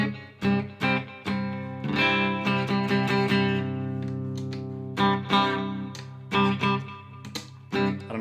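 An electric guitar on an echo effect plays reggae-style chords: short, loud, rhythmic strums, each followed by repeating echoes and sustained tone. The guitar plays alone with no talking.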